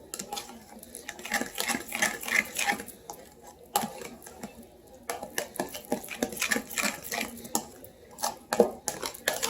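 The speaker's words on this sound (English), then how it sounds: "I'm going to give it a good stir" A spoon stirring a Hellmann's mayonnaise mixture with pickles, giving repeated clinks and scrapes against the bowl in an irregular rhythm, close and moderately loud.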